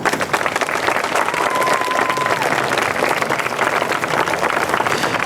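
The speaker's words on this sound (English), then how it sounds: "Students, I want you to give a round of applause to all of them" Students in a large school crowd applaud staff and volunteers at a Torch Trek event, a sustained, dense roar of clapping that holds evenly throughout with no speech.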